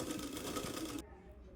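Sewing machine stitching the folded edge of a Punjabi dress, running in a fast, steady whir that stops abruptly just after one second.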